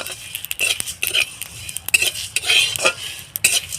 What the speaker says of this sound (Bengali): হালকা হাতে একটু ভেজে নিতে হবে দেখুন এইভাবে আমি ভেজে নিচ্ছি